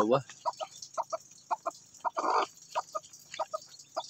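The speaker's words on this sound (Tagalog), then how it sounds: "may naririnig na ako na tunog ng sisiw" Repeated short, high chirping peeps of newly hatched chicks in quick pairs, fairly close, with occasional louder clucking from the mother hen in between.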